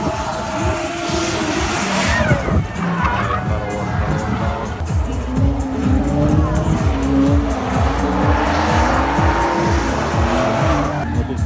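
Drift cars at a DRIFT OPEN final event in Kamianske, engines revving hard with long repeated tire squeals across the run, loud and fairly close, with faint crowd or announcer voices mixed underneath.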